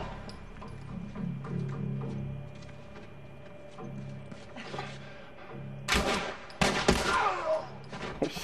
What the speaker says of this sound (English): Shot him in the leg.